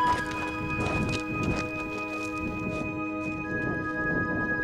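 Hooves clop unevenly on rough mountain ground as horses walk past on the approach to Aconcagua base camp, with rustling and a steady tonal hum running underneath; no one speaks.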